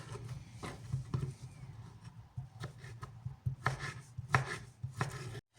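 Beetroot for a salad is chopped with a knife on a board, giving a run of irregular, close thuds and scrapes in uneven clusters with brief pauses between them.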